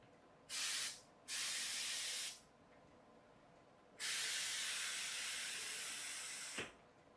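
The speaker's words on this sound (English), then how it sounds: "it sprays a jet of water out. In fact, it's not a jet, it's a spray." A pumped-up 1-litre pressure sprayer on a water jet car releases three hissing bursts of spray: two short ones close together, then a longer sustained one that fades out.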